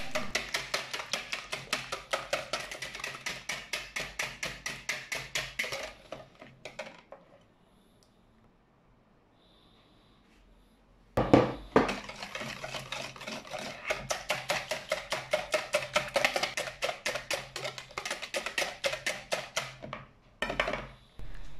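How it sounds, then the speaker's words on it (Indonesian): A whisk clatters in fast, steady rhythmic strokes against a bowl as eggs and oil are beaten together for banana bread. The whisking pauses for a few quiet seconds, then picks up again close and loud. "Pertama-tama kocok telur dan minyak asal tercampur saja."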